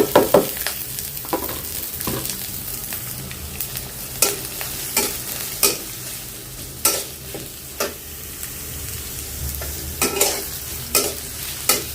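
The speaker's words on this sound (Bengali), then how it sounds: "পেঁয়াজটা একটু হালকা ভাজবো হালকা কি মানে ব্রাউন পুরাপুরি ব্রাউন করবো না একটু ভালো করে ভাজবো" Chopped green chilies and onions fry in olive oil in a pan, with a constant sizzle broken by repeated sharp spoon scrapes and stirring knocks at an uneven rhythm, close and clear with no talk.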